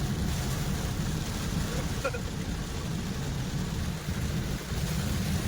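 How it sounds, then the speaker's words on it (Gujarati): Heavy rain pours down in a steady, loud, unbroken roar with a low rumble underneath, lasting throughout. "અરે જો વરસાદ પડો જબર પડો"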